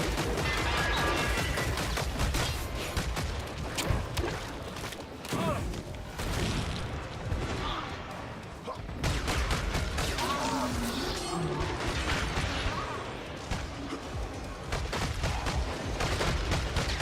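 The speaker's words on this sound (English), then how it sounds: "I'm about to start firing." Dense, continuous gunfire and chaotic combat noise in the co-op shooter Killing Floor 3, loud and sustained with few breaks, voices faintly mixed in.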